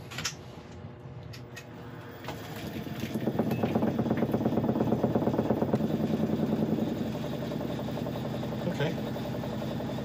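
An oak blank turns on a wood lathe at its lowest speed, giving a steady motor hum that rises into a louder, throbbing vibration and rattle for several seconds before settling. A voice speaks briefly.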